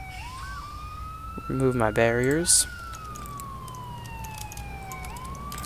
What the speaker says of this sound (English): turn off your siren. It's kind of annoying.